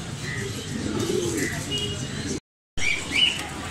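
Pigeons or doves coo and chirp at a crowded bird market in Mirpur-1, Dhaka, a steady murmur of birds and traders' voices with a brief gap, then a louder chirp near the end.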